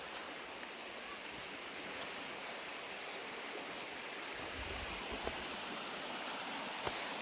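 Water rushes steadily below a footpath on a waterfall walk in the Yorkshire Dales, a continuous broad hiss of flowing stream heard from close by, with no talking over it.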